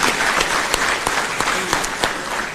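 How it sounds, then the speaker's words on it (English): Audience applause for panelists at a renewable energy conference and expo, a full burst of many hands clapping with a few sharp louder claps standing out near the listener. "I want us to clap for the panelists for a job well done."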